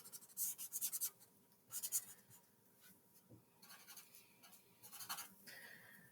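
Pencil drawing a girl's lips on paper, with soft close scratchy strokes arriving in short bursts separated by quiet pauses, some quick back-and-forth shading and some longer single lines.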